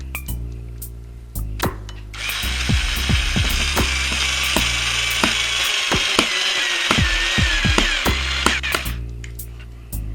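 Pretec screw gun in drill mode driving a screw, a loud whirring motor run with clicking ratchet-like ticks, starting and stopping briefly before a sustained spin of several seconds.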